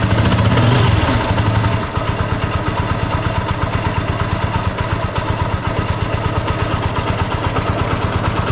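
A TVS Apache RTR 180 running on car engine oil on a cold day fires up and settles into a steady, close, loud idle, with an even rhythmic thumping and light mechanical clatter throughout. No one speaks.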